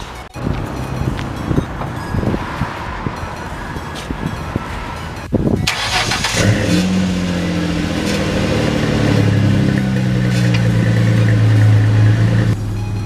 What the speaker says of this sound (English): The car sounds good on startup.